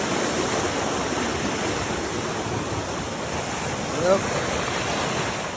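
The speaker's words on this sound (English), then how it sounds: "so river's moving a lot faster now" A swollen river rushes fast after heavy overnight rain, a dense, steady roar of water close by, with one brief spoken word over it.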